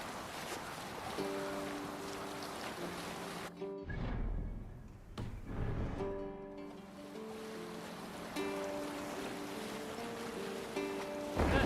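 A longship sails in Assassin's Creed Valhalla, with steady waves washing and rushing against the hull and wind over the water, close and continuous beneath a sustained tonal music bed.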